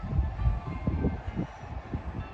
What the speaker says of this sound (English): And a train would go by just when we're trying to listen.